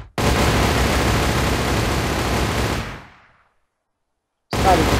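Gunfire from a Minecraft gun mod during a multiplayer battle, a dense loud burst of sustained rapid shots that cuts off into silence, then another burst starts abruptly.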